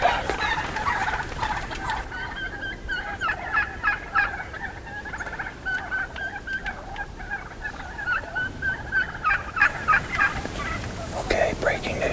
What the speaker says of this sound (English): like some kind of wild turkey gang fight is the dangest thing I've ever seen turkeys do